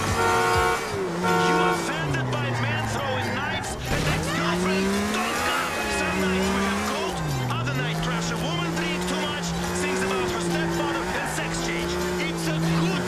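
Car in Grand Theft Auto 4 tearing along with sustained tire squeal and a loud engine drone that rises and falls, with brief honk-like tones near the start; game music and effects layered throughout.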